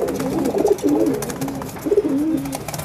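Several wild pigeons coo inside a loft, soft repeated rolling calls rising and falling in two clear bursts over a low rustling background.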